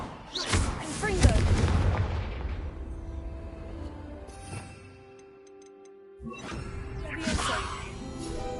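Blasting Confringo spell explosions in Hogwarts Legacy, a deep booming burst at the start followed by a second blast later, with a spoken voice and game ambience between.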